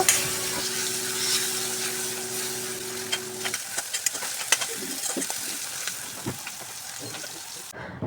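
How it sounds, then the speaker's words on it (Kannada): Tomatoes go into onions frying in a pan while a utensil stirs, giving a steady sizzle with a tonal hum early on, then scattered scrapes and clicks against the pan. "ಈರುಳ್ಳಿ ಫ್ರೈ ಆದಮೇಲೆ ಅದಕ್ಕೆ ಟೊಮೆಟೊನ ಹಾಕ್ತಾ ಇದ್ದೀನಿ ಸೊ ಅದನ್ನು ಚೆನ್ನಾಗಿ ಬಾಡಿಸ್ಕೊಂಡು ಬಿಡೋಣ"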